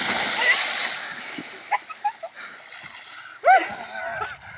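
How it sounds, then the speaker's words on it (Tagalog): People shout and chatter near an irrigation canal, then a sharp splash bursts out as someone jumps into the water, followed by sloshing and excited voices. "tatalon tayo dito sa tubig"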